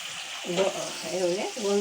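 Lemon leaves sizzle in hot frying ghee during homemade ghee making, a steady close frying hiss with bubbling crackle that swells in short bursts, and a person speaking over it.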